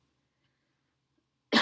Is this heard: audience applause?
no